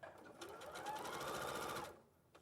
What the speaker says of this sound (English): So the longest stitch length you've got on your machine, just literally baste that in place.